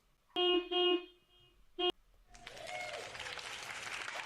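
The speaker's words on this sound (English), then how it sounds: "Where's my applaud button? Give it to me now. I need my applause." During a Manchester United press conference, a soundboard button fires a canned applause effect: a few short horn-like tones come first, then a rising wash of clapping that carries on evenly to the end.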